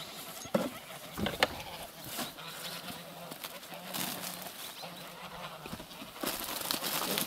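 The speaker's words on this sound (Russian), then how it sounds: "Там гуси" Distant geese honk in scattered bursts over faint outdoor rustling and a few soft knocks, fairly quiet and far off.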